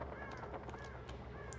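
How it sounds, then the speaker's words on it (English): Crows cawing in the game Hunt: Showdown, a few harsh caws rising over steady low ambient rumble, fairly distant and spread across the moment. "Birds are coming out of the church"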